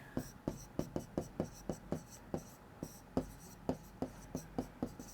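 Handwriting during a Class 12 probability math lesson: a steady run of about a dozen crisp, rhythmic strokes and taps, close and fairly quiet, with no talking.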